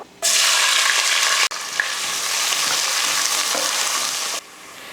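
Cinnamon, cloves, green chillies and large onions hit hot oil for chicken biryani, bursting into a loud, dense sizzle that breaks briefly and then continues steadily before dropping away.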